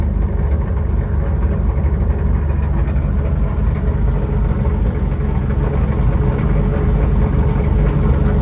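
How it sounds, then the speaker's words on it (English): Steady Porsche 997 GT3 4.0 Clubsport engine idle with a constant low rumble and a continuous light mechanical rattle from its lightweight flywheel, close and loud, unchanging from start to finish. "So it is the sound of the lightweight flywheel."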